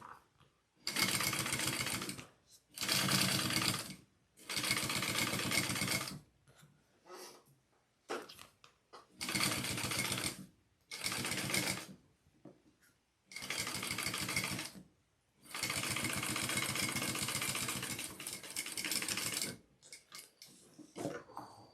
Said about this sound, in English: I'm going to top stitch